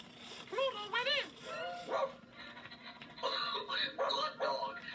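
Pluto, the cartoon dog, lets out a quick run of springy, rising-and-falling barks and yips, loud and close, followed by a few more bark-like bursts mixed with voices.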